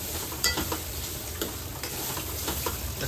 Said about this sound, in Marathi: थोडंसं तूप टाकून त्याच्यामध्ये फ्राय करायचं.